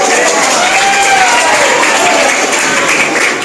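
Students applaud together in a room, a loud, dense burst of steady clapping lasting a few seconds, with voices mixed into the crowd noise.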